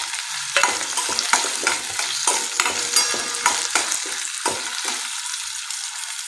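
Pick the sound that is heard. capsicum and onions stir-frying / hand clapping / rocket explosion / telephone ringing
capsicum and onions stir-frying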